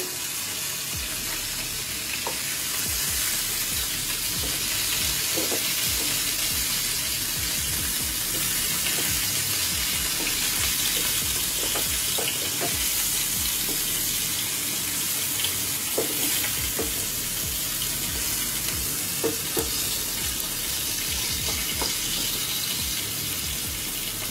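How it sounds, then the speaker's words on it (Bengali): Pointed gourd (potol) frying in a pan while being turned, a steady hissing sizzle throughout with scattered soft scrapes and taps of a spatula, no talking. "এবার একটু আস্তে আস্তে উল্টে দেওয়ার চেষ্টা করি পটলগুলোকে।"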